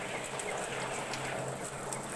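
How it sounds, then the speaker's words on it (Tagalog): Heavy rain falls steadily outside, a dense continuous hiss of drops with a faint low hum underneath, holding evenly and without pause throughout. "Makalakas yung ulan."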